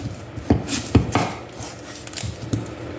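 A kitchen knife chops through an onion on a cutting board, leaving a few sharp, close thuds spaced unevenly over a few seconds, with no talk.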